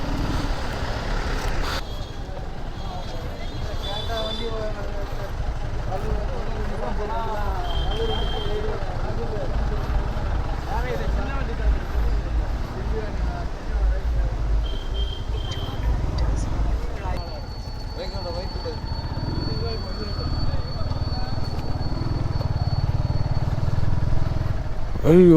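A Yamaha R15 V4 motorcycle ridden along a road on a solo trip, its engine droning steadily with wind rush throughout, while a rider talks over it for most of the stretch.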